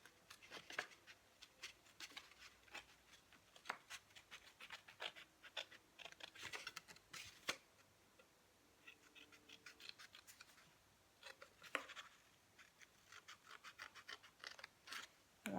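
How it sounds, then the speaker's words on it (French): Small scissors snipping along lines in craft paper for a scrapbook pop-up card, a quiet series of irregular close snips and paper rustles with no talking. "on va tout simplement prendre nos petits ciseaux et on va venir couper sur ce trait-là et ce trait-là"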